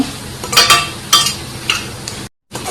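Spinach and potatoes stirred in a frying pan, with a spatula scraping in a few bursts over a steady low sizzle, close up, then a brief cut to silence.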